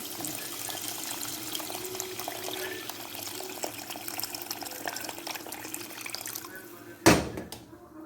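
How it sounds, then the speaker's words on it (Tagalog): Water pouring into a cooking pot while red rice is prepared, a steady splashing stream that runs for several seconds and ends with a louder clatter near the close. "Ito, lagyan natin ng tubig."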